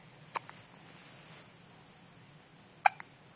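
A newborn baby hiccups softly in a quiet room, two short, sharp hiccups about two and a half seconds apart, with a faint third starting at the very end.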